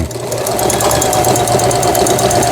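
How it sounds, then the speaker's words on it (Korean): A Brother sewing machine running overlock stitching, a loud, close, rapid mechanical chatter of needle strokes at a steady fast pace with no pauses or talk. "옷감이 풀리지 않도록 해주는 오버록 바느질"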